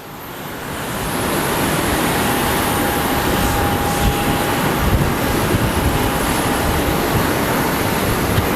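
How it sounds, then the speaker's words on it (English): An Embraer passenger jet at Sky Harbor Airport gives a loud, steady broadband roar that swells in over the first second and holds, with a faint tonal whine; no talking. "our next Embraer we're going to see is not that cool"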